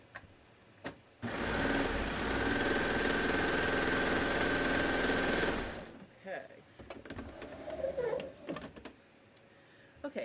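A serger runs steadily for about five seconds, sewing the short underarm seam of a fabric sleeve with a loud, even mechanical whir, then stops, leaving soft handling noises and a voice.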